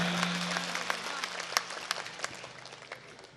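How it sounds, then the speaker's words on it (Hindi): Audience applause at a Hindi poetry gathering (kavi sammelan) in Siwana: a short burst of scattered clapping that thins out over a few seconds, with a held voice tone at the start. "एक बार कवि सम्मेलन प्रारंभ करने के लिए सारे हाथ हवा में लहरा जाएं ताकि ये तालियां पहुंचें दूर दूर तलक।"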